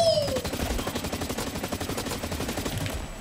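Rapid bursts of automatic gunfire from the player's weapon in the shooter Blacklight Retribution, a steady rattling stream of shots lasting several seconds, fairly close with no talk over it.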